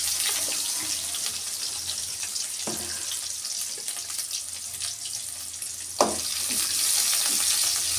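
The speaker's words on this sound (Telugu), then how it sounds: "జీలకర్ర వేస్తాను, ఆనియన్ వేస్తాను. కర్రీ లీవ్స్ అయితే అయిపోయింది." Cumin, onion and curry leaves fry in a pan with a steady, soft sizzle throughout, broken by a couple of brief stirring clatters; no one speaks.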